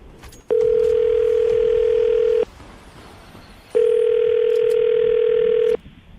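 A telephone ringback tone sounds while placing a call, two loud steady buzzes of about two seconds each separated by a pause, alone and clear.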